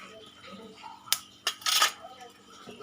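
A metal lid clatters onto a cooking pot of mixed vegetables, a few sharp clinks and a brief rattle over a quiet background with faint speech.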